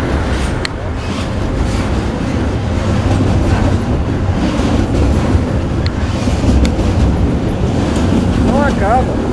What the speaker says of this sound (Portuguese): a gente podia ficar conversando 1 hora aqui e o trem ia continuar passando